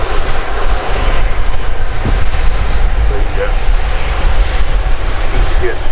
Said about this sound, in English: Airbus A319 there